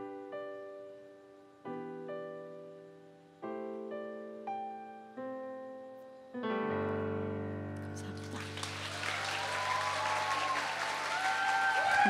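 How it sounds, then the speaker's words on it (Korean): After sparse piano notes ring out and fade, a concert audience bursts into loud, sustained applause and cheering at a live music show. "환호해 주셔서 너무너무 감사드리고요."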